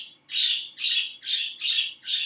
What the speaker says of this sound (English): Oh, okay, my birds.